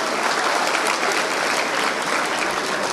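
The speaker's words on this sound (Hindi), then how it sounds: "एक बार ज़ोरदार तालियां बजाकर मुझे इजाज़त दें तो मैं शेर सुनाऊं।" Dense, loud applause from a mushaira audience, thousands of hands clapping continuously without a break at close range, with no voices rising above it.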